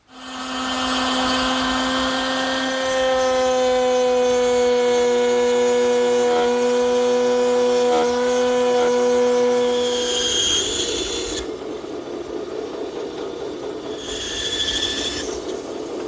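A bandsaw cuts decorative cutouts in wood for a jewelry box, giving a loud, steady whining drone with a strong pitched tone for about ten seconds before the tone drops and shifts to a rougher hum.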